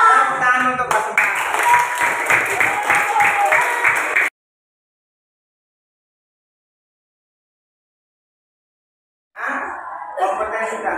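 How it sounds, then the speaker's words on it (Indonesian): Applause from a classroom group clapping in a rhythmic cheer, a short burst of hands lasting a few seconds before silence, then voices return. "Tepuk tangan untuk Pak Sempat."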